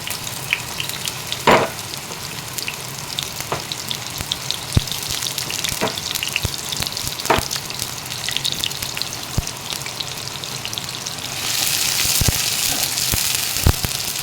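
Two chopped onions fry in hot oil in a pan for a home-style mutton and chickpea dal, giving a steady close sizzle with occasional sharp pops that grows louder toward the end.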